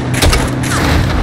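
A launcher rocket hits in the video game Call of Duty Modern Warfare, giving a loud, close boom with a thudding blast that rolls into a sustained rumble of battle noise.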